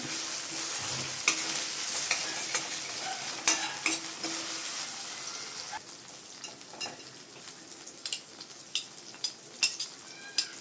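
Chicken gravy with mint stirred in a hot pan: a loud sizzle that gradually eases while a spoon knocks and scrapes against the metal in irregular bursts.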